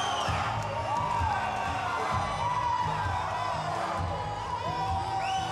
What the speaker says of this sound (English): And the crowd is pumped for Thomas Johnson Jr.